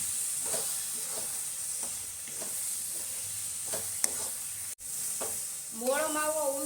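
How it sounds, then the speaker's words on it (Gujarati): Carrot halwa with unsweetened mava sizzles in a pan while being stirred, a steady close frying hiss with soft scraping strokes, a brief clatter near the end and a short burst of voice at the close. "હલાવી દઈશું."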